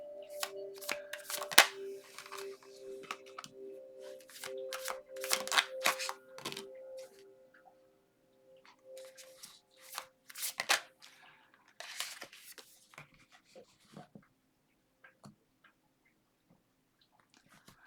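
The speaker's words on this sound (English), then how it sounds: "Sorry, guys, I like to shuffle." A deck of tarot cards gets shuffled by hand in a series of crisp riffles and soft slaps, irregular and close, fading to quiet taps toward the end without talk.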